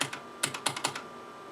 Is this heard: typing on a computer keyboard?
yes